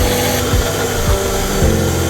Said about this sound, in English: We're gonna use our stand mixer to kind of combine the sugar and the butter.